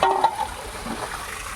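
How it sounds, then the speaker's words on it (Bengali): A sister-in-law cooking meat in a village kitchen, stirring and frying with a soft sizzle and scraping of the pan, close and moderately loud, no talk. "এই যে বৌদি মাংস রান্না করছে"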